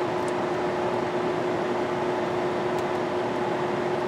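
A Dremel rotary tool fitted with an aluminum brush, stuck at a single speed by a broken speed controller, gives a steady even whine with a constant tone and no change in pitch throughout.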